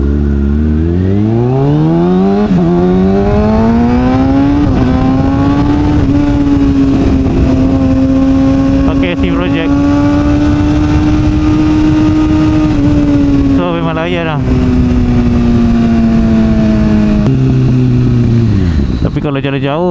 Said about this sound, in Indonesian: Kalau jalan jauh kena bawa laju lah motor ni, sebab nyaring lah bunyi dia.